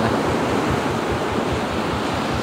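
Calm sea waves at open sea heard from a fishing boat after a storm: continuous, loud, rushing wash of water with gusty wind noise, steady throughout and without voices.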